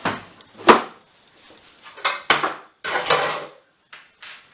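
An LG Direct Drive washing machine's plastic detergent drawer is pulled out, giving a few sharp clacks and scraping rattles in short bursts, close by and moderately loud, with no talking.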